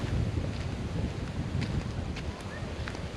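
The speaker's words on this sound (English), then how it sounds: "Pretty windy." Strong wind gusting across a beach at Weipa on Cape York, a constant rough roar buffeting the microphone, with no voices.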